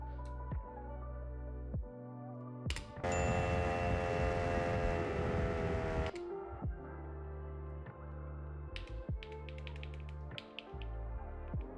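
A hand bell rings loudly for about three seconds amid a steady low hum and scattered taps, then the hum and light clicks continue alone.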